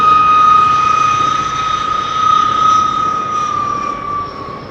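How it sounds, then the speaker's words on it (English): Loud, sustained whine of a de Havilland Goblin jet engine with a piercing steady tone over a broad roaring rush, close and continuous, at an air show. "That little goblin engine is a swine."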